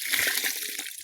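Water is poured into pig feed as it is hand-mixed on a small pig farm, giving a brief, close splashing and sloshing wash that lasts about a second with no talk.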